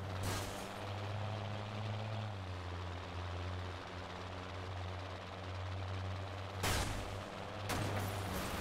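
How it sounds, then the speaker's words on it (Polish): Heavy engines rumble with a steady low mechanical drone, with a couple of loud bursts like gunfire, from tanks driving in Watch Dogs. "A to po prostu czołgi."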